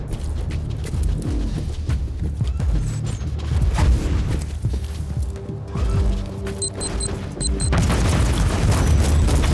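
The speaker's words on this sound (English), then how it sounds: "Has launched Marauder bombers as a counterattack. They will bomb the entire area." Marauder bombers pounding an area in Warhammer 40,000: Inquisitor Martyr, a dense, loud rumble of booming explosions and mechanical clatter that runs on without letup.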